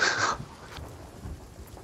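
Thunderstorm with rain in the Sea of Thieves pirate video game: a brief bright crack opens, then a low rumbling roll continues under soft steady rain.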